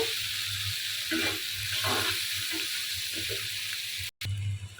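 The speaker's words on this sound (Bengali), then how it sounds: "এখন আমি দিয়ে দিচ্ছি কাঁচামরিচ আর আস্তা রসুন" Green chillies and whole peeled garlic cloves frying in hot oil, a steady close sizzle with soft crackles and stirring, briefly cut by a short silent gap near the end.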